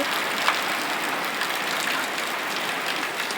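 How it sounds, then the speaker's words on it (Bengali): Steady rain pours down in a dense, even hiss, close and fairly loud, with no voices. "খুব সুন্দর বৃষ্টি পড়ছে"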